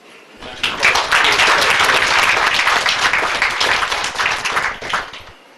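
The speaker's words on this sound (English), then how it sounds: "Let's give a round of applause for National" Sustained applause from the audience at a Palatka city commission meeting, a dense, steady wash of many hands clapping that swells in quickly and holds for several seconds before tapering off.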